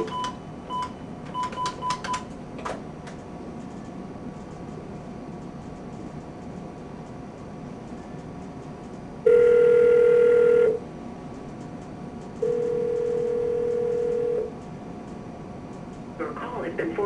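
A desk phone dials a cell number, with a few quick keypad tones followed by two long, steady ringback tones spaced apart over a background hum.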